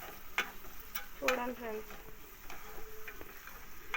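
Capsicum frying in a pan gives a steady, soft sizzle broken by a few clinks and scrapes of stirring, with a brief voice speaking over it.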